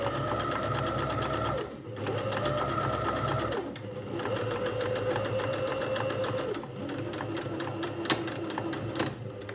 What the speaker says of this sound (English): tugging on the threads to help the machine pull the fabric through